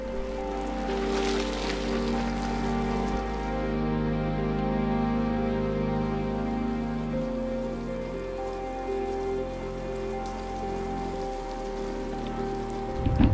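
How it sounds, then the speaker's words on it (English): A light, frigid drizzle falls during a bicycle ride, a steady soft patter of rain with continuous low rumbling noise beneath, fairly even in level throughout and without speech. "It's really just a frigid little drizzle going on."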